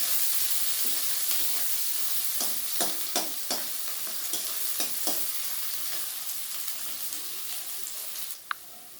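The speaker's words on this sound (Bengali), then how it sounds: "পেঁয়াজগুলো আমার বেশ ভাজা ভাজা হয়ে এসছে" Quiet, steady sizzle of onions frying in oil, punctuated by a series of clinking stirs with a utensil against the pan.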